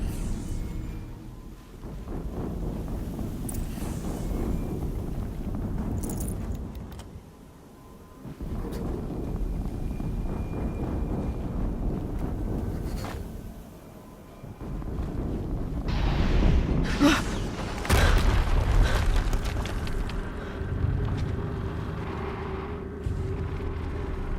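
Explosions in the video game Horizon Zero Dawn: a continuous roaring rumble with booming surges, briefly dropping away before swelling again louder near the end, with no speech.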